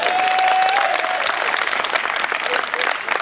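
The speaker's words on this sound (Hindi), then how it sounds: "मैंने कहा कि आपसे ताली बजाओ।" An audience at a Hindi poetry gathering claps loudly and continuously, a crowd of hands close by, fading slightly toward the end, with a voice briefly audible over it.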